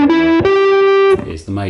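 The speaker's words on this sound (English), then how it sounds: "So here's the pentatonic major played like this." An electric guitar with effects plays notes of the major pentatonic scale, a few clear sustained tones one after another, loud and close, with a short spoken fragment at the end.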